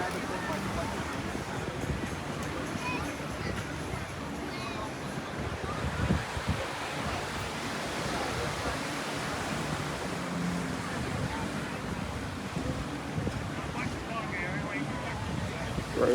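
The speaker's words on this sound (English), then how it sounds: "We out here on the beach," Ocean waves wash onto a beach as a continuous broad roar mixed with wind buffeting the microphone, with people talking over it.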